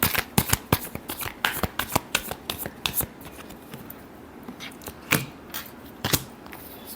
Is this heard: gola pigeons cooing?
no